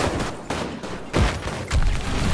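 Battlefield V anti-aircraft gun firing in a series of heavy, booming thumps at a steady pace, somewhat distant amid the surrounding battle noise.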